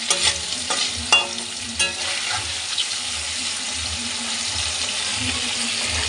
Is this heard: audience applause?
no